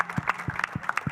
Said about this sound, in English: Can we get a massive round of applause for every team that has come along today and raced on trackside?